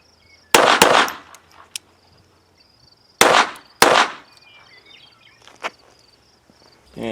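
Handgun shots during close-range point shooting practice outdoors: a quick pair of sharp cracks, a pause, then another pair, each followed by brief ringing echo, with insects chirping faintly in quiet gaps.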